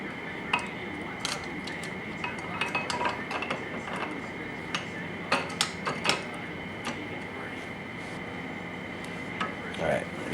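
Light metallic clinks and taps sound as an intake camshaft goes into a Yamaha R6 engine, scattered sharp ticks at irregular intervals over a faint steady hum, close and quiet.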